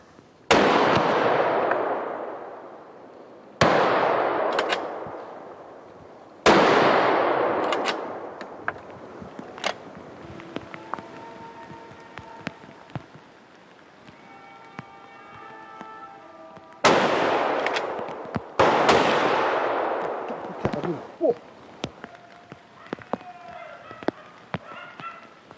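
Rifle shots during a driven hunt, several sharp loud reports, each followed by a long echoing decay across open ground, with faint calls and hunting-horn-like tones between the shots.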